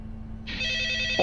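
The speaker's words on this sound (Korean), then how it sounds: "전화 왔다" A telephone in a MrBeast horror video game starts ringing abruptly, a bright sustained electronic ring that holds steady over a low background hum.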